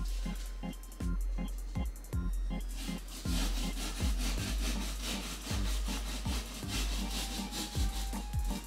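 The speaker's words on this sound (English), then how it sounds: "Okay, I have a drywall saw. I do have to say this drywall saw is amazing." A drywall saw cuts into a pumpkin with rapid, steady back-and-forth rasping strokes, close and loud, repeating in an even rhythm throughout.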